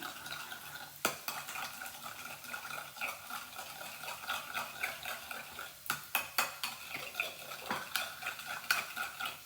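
A spoon beats a sweet mixture in a bowl for a dum aloo curry, giving a fast, rhythmic scraping and clinking with several sharper knocks against the bowl, close and moderately quiet.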